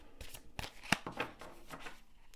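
Quick, close riffle of tarot cards being shuffled, a series of soft crisp snaps and flutters in an uneven rhythm.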